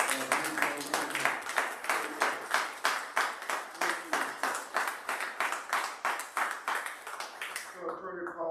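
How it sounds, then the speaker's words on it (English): Rhythmic clapping from a press conference crowd, a steady run of sharp claps that fades out near the end as a low murmur remains. "I want to give a big round of applause to the National Council of Negro Women."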